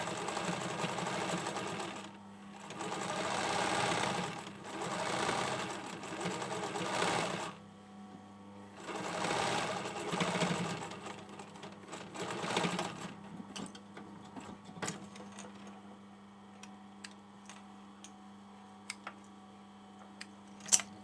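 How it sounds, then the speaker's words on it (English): A sewing machine stitching the hem of a hoodie with back tacks runs in several whirring bursts of a few seconds each, separated by pauses, followed by quieter ticking and clicks. The sound is close and steady with no talking. "always back tap, which is 40 backwards stitches, 3 stitches forward, 3 stitches backwards, so your stitches don't come undone"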